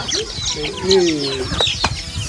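Hens and chicks cluck and cheep inside a small coop, with several overlapping calls and soft chirps close by, continuing through the whole stretch.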